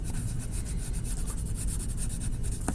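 A brown crayon, not a Crayola, colors in a bear drawing on paper with a steady, dry, scratchy rubbing that continues without pause, quiet and close up.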